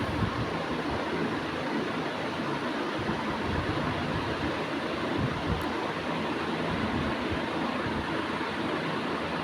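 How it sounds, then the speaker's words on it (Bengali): A pot of salted water comes to a boil in a home kitchen, giving a steady, dense roiling hiss and bubbling that stays loud and even throughout, with no talk. "এখন গাইস দেখুন ফুটছে।"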